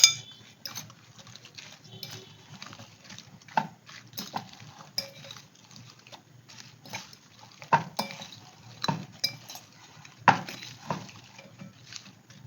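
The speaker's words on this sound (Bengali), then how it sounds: "যে মশলাগুলো দিলাম সেটা আমি মিশিয়ে নিচ্ছি" A spoon clinks against a bowl as spices are mixed, with irregular scraping and tapping strokes close by, some sharper clinks standing out, and no talking.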